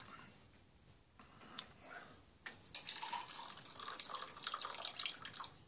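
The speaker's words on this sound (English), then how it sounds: "Let's put hot water in." Hot water poured from a tap or kettle into an army ration hot chocolate mix, a soft trickle that swells into a louder, steady splashing stream after a few seconds, with no talk over it.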